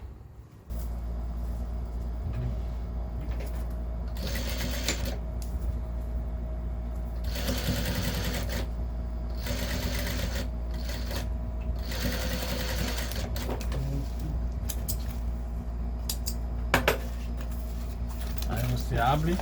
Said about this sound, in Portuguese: Aí aqui você faz a costura também com o pé de máquina.